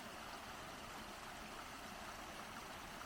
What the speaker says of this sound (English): got a nice stream going that way